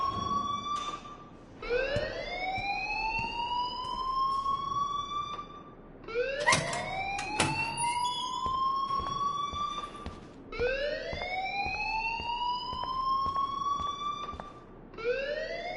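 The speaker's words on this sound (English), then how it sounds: "please turn off that alarm since that's your job." An alarm in the video game Life is Strange wails through a school in repeated rising, siren-like sweeps, each climbing then holding, about four cycles at steady moderate loudness, with no voices.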